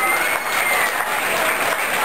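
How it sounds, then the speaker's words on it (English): Audience applause after a county fair queen contest, a steady dense wash of many hands clapping throughout, loud and continuous with no break. "Another round of applause, not only for Kelsey, but all these gals up here who did a fantastic job"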